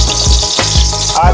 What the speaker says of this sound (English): Add the garlic and the pepper.